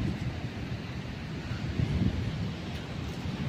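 Wind and sea waves on a beach at Mango Bay resort on Phu Quoc, a steady rushing wash with low rumbling wind buffeting the microphone, moderately loud, with no one speaking.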